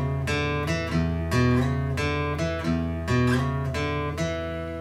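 Acoustic guitar picks out a riff in open position, with a ringing low open E under repeated chord stabs and quick melodic figures, bright and close with no voice.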